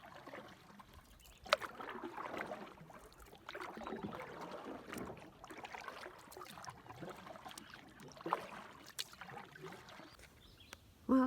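Canoe paddling on a calm, peaceful lake, with soft water swishes and drips from the strokes recurring in a steady, quiet rhythm and an occasional knock against the hull.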